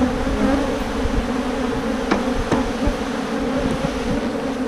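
A swarm of bees hums outdoors in dense jungle, a thick, continuous drone that holds steady throughout. A few faint clicks sound near the middle.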